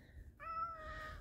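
A pet cat on a homestead gives a single faint, drawn-out meow with a rising then falling tone, heard alone against a quiet background hum.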